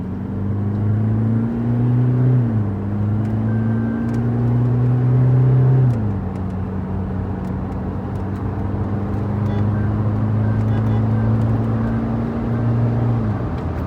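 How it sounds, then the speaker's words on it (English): A Stage-2 tuned Toyota Fortuner with combined ECU and TCU tune accelerates hard, its engine drone climbing in pitch, dropping at a gear change, then climbing again, a loud, steady roar heard close from inside the cabin. "right now I'm going to show you an instant acceleration of this Stage-2 setup"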